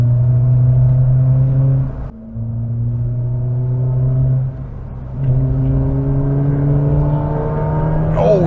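A Ford Puma 1.7 engine pulls hard through the gears on a road, with a loud, steady engine drone that climbs in pitch, then drops at each shift before climbing again three times.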